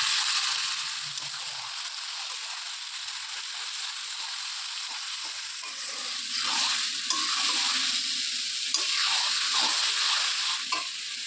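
A ginger, garlic, onion and tomato paste sizzles steadily in a hot pan while a spoon scrapes and stirs it, the frying growing louder and busier partway through with clinks of the utensil.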